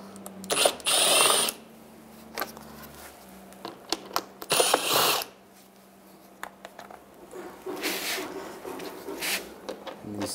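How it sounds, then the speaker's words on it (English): A ratchet with a 7mm socket removing bumper screws on a 2010-2017 Chevrolet Equinox, close clicking and clattering in short irregular bursts, with some handling noise and a brief mechanical whir. "Take these screws out. There's 2 on each side. Use a 7mm socket."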